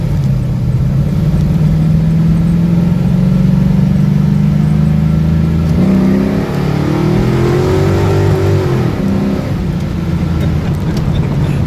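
A 1968 Pontiac Firebird with a 455 Tunnel Port V8 revving hard, a loud, rough, continuous engine roar whose pitch rises, dips, then climbs again as it hits the rev limiter.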